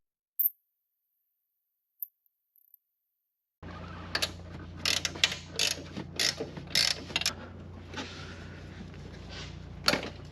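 A ratchet works loose the downpipe bolts on a Subaru Impreza WRX STI, clicking in quick close bursts after a few seconds of near silence and a couple of faint taps.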